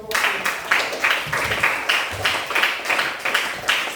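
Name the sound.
classroom applause for the presenting group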